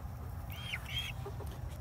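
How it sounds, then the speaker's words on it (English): Buff Orpington chickens at a coop around sunset make a few soft, faint clucks and short chirps over a low, steady background hum. "He's out here with our chickens and our babies."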